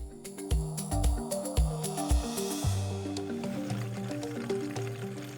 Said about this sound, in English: To your dry pot, add your palm oil,